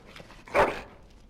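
A dog in a video game lets out a single short bark amid faint whimpering, close and moderately loud, lasting only a moment.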